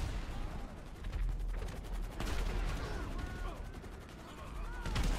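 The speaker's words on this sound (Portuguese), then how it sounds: "Os aliens estão me atirando." Aliens fire guns at the player in GTA 5 during an alien invasion of Los Santos, a steady stream of rapid shots with explosive booms and whistling sci-fi tones throughout.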